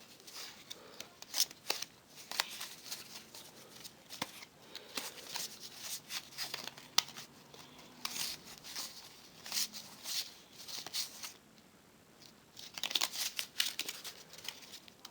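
Playing cards from the Packa na muchy board game box are handled quietly, with soft papery shuffling, flicking and crinkling in irregular bursts, close up and low in level throughout.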